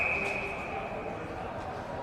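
Referee whistle at an indoor ringette game on ice, a single steady shrill tone held for about two seconds over arena crowd noise and commentary.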